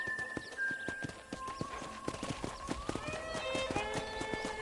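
Rhythmic hoof clip-clops of a galloping horse in Red Dead Redemption beat steadily, with a whinny and bright tonal game sounds layered over the hoofbeats.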